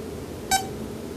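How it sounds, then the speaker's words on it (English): A single short electronic beep from a Prodigi device sounds once, clear and high-pitched, over a quiet background hum. "you will hear a beep"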